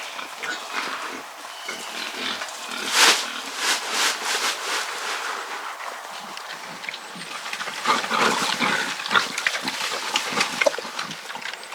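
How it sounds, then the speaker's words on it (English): Hungry pigs being fed on a homestead grunt, squeal and jostle in a continuous rough chorus, with louder squealing bursts rising and falling throughout. "we got to get some pigs fed because they're hungry"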